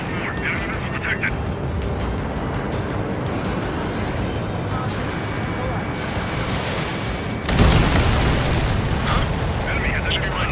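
Explosions and weapon impacts in the aerial combat game Ace Combat 7, a dense, continuous roar of blasts and jet noise with a louder burst about two-thirds through, while radio chatter runs over it.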